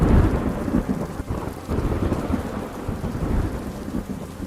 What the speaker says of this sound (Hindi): फिर जोर से बारिश होने लगी।